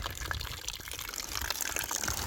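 Water from a hose pours into a bucket outdoors beside a solar panel setup, a steady, close rushing and splashing with no break and no talk over it.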